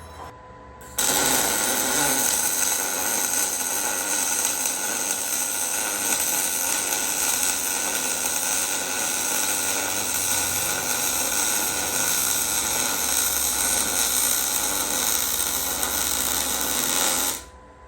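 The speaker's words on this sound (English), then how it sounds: "now it is time to fully weld this thing out" MIG welding with a Prime Weld MIG 285 welder, one long, loud, steady crackling buzz of the arc that starts abruptly and stops cleanly after about sixteen seconds, heard close up.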